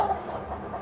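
Hens and roosters packed into a crowded breeding facility, some with floppy combs, make a dense, continuous low clucking murmur with a brief higher call near the start, steady throughout the short stretch.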